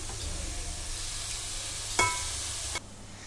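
Fish curry with coriander and curry leaves being stirred in a pan, a soft steady simmering hiss with a single sharp spoon clink against the pot near the end.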